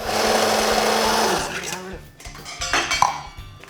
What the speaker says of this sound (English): all I've got in here is mint, lemon, chilli and salt. And then all you do is just whiz it up